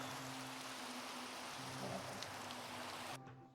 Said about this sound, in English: it's raining over here